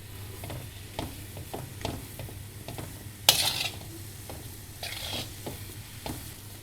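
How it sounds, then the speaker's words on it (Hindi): Gram flour roasting in ghee in a pan over a low flame, stirred with repeated scraping strokes in a steady rhythm over a soft sizzle, with one sharper clatter midway and no talking. "अब हम इस बेसन को बिल्कुल लो फ्लेम पे सेकेंगे।"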